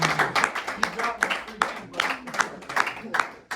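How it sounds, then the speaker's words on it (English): Small group at a Monday morning workplace meeting claps for a colleague, sparse distinct hand claps in an uneven rhythm with voices talking over them. "I want everybody to give a round of applause to Bailey"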